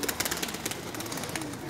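Soft cooing of pigeons close by, low throaty murmurs repeating over a busy background hiss.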